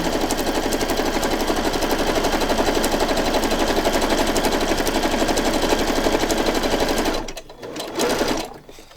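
A sewing machine stitches through a paper journal page, running fast in a loud, continuous mechanical chatter for about seven seconds before stopping abruptly, followed by a couple of brief handling rustles.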